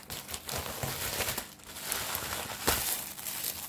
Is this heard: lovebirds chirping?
no